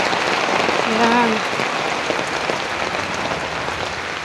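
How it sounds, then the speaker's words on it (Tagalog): Steady rain falls during a stormy afternoon, a dense, even hiss that stays close and fairly loud throughout, with a brief voice speaking near the start. "Ulan na."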